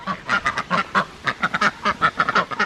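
A steady chorus of backyard flock ducks quacking rapidly and repeatedly as they are let out in the morning, close by, the calls overlapping in a busy rhythm with no talking.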